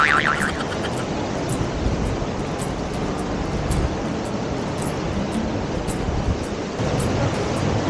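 Waves wash steadily over a rocky shore after a storm, a continuous broadband roar of surf with no talking.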